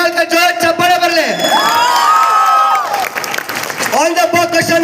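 A live concert crowd cheers for the band's musicians, with loud whoops and rising shouted calls over a dense, roaring background of voices, peaking in the middle before settling back into crowd noise.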